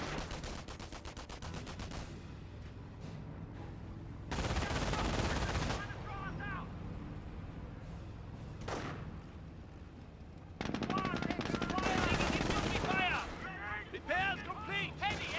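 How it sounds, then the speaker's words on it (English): MG42 machine gun fire in the video game Company of Heroes, sustained bursts of rapid rattling shots with distant battle noise, under a commentator talking throughout. "MG42 sitting on up"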